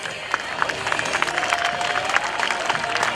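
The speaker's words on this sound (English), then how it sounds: "Ladies and gentlemen, let's give them a big round of applause." An outdoor airshow crowd at a Rhode Island Air National Guard open house applauds the Canadian Snowbirds team, with spread-out clapping and some cheering mixed with distant murmur over steady background noise.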